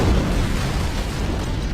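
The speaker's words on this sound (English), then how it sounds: "It must have been one of their boarding parties. I'd guess an antimatter charge." An antimatter charge explosion in a Halo CE cutscene, a loud, dense, continuous roaring blast that fills the whole clip with heavy rumble and broad noise, steady in level throughout.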